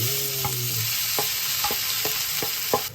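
Steady sizzling of food frying in oil, with a few soft clicks and scrapes from a utensil stirring in the pan, no voices.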